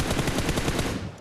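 Rapid automatic gunfire in the battle royale game PUBG Mobile, a fast, evenly spaced burst of shots lasting just over a second at close range, fading slightly at the end.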